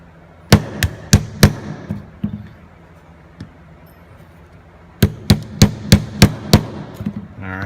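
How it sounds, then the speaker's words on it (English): A polymer hammer drives frame pins into a PF-9 pistol frame in two bursts of four to six sharp, evenly spaced taps, with a few lighter knocks between them. "Using the polymer side or just your polymer hammer, go ahead and drive the frame pins back in."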